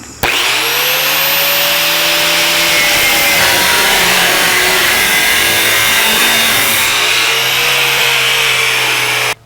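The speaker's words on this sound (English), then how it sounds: "I don't know of any other way to cut this other than use a cutoff wheel" A cutoff wheel grinds through a 1/4 inch steel driveshaft loop for a 1949 Chevrolet gasser, giving a loud, steady high-pitched whine with a harsh gritty edge that runs nearly the whole time before stopping abruptly.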